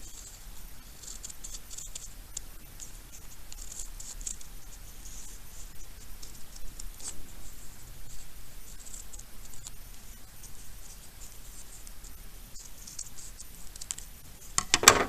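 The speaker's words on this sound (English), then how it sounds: "I'm gonna cut that one there, It's a little easier to cut out because it's straight cuts instead of having curves" Scissors snip steadily through a folded paper snowflake with straight cuts, a quiet run of close crisp snips and rustles with no talking.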